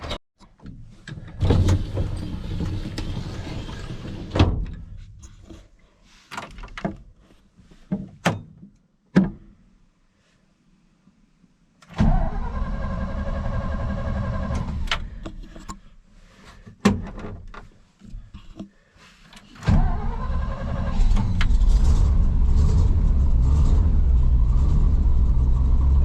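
An old farm truck engine cranks, catches and rumbles at idle, with clunks and pauses between attempts, then a steadier, louder running drone at the end.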